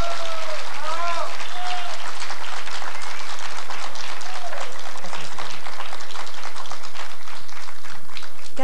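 Audience at a 1989 tropical music festival applauding as a band is introduced, loud dense clapping and crowd noise with a voice speaking briefly over the start, sustained throughout.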